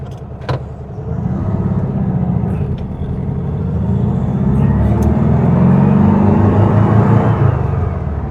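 A 1969 VW Beetle engine idles to warm up, a steady close low rumble that swells slightly toward the end, with a few faint clicks and no voices.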